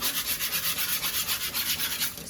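Plastering trowels from skim coating a wall, rinsed in tepid water and scraped against each other to clean them: a close, steady run of roughly ten rhythmic metal scraping strokes, with no talking.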